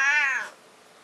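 A single drawn-out cat meow, loud and close, falling in pitch and then trailing off into quiet.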